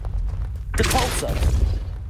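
The Depulso spell cast in Hogwarts Legacy, a single sudden whooshing boom that swells and fades over about half a second, fairly loud, over a low rumbling background.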